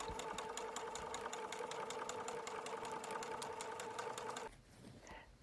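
A sewing machine stitches a waistband onto a gathered skirt, its needle ticking in a fast, even rhythm with a steady motor hum for several seconds before stopping abruptly.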